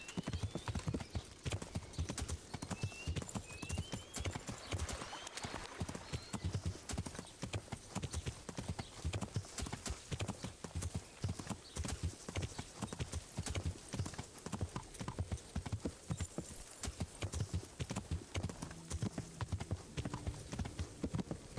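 Steady clip-clop of horse hooves on the ground in Kingdom Come: Deliverance, a continuous even trotting rhythm lasting the whole stretch, fairly close and moderately loud over faint ambient background.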